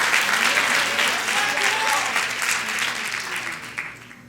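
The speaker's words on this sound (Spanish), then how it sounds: "te pido un aplauso al que Dios es bueno" A church congregation applauds, the sustained clapping of many hands loud and steady, with murmured voices and a faint voice showing through, thinning slightly toward the end.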